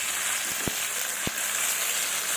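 Chopped tomato drops into a pan of frying small bata fish curry with broccoli, setting off a steady, loud sizzle broken by two short knocks.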